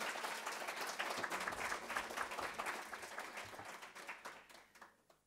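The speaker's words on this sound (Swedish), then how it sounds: "De får en applåd." Audience applause greets the participants of an EU transport debate, a steady burst of clapping that gradually thins and fades out over about five seconds.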